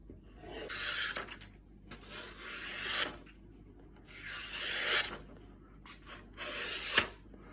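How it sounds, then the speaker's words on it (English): An EZEsharp blade sharpener drawn along a knife edge to remove the burr, making four separate scraping, rasping strokes of about a second each with short quiet pauses between them, close and fairly soft. "Just trying to remove the burr from the edge."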